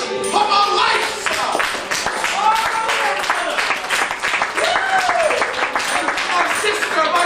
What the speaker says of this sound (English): Can I have a big round of applause for my brother Eric Pagach from our lights?